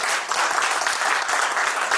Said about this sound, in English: So I want you to clap for the board again